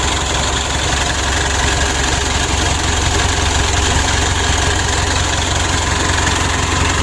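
A Mitsubishi Pajero Sport Dakar DI-D diesel engine, just restarted after overheating, idles close by with a steady, loud, gritty clatter and a constant low hum, no voices over it.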